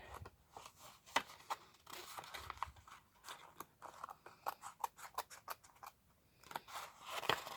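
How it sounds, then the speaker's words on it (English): Scissors snip through card flaps in a quiet room, a close series of crisp, irregular cuts, some sharp and isolated and others in quick runs, with no talking. "I'm going to cut like this and try to be as neat as I can"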